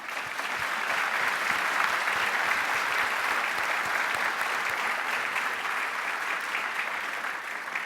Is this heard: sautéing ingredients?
no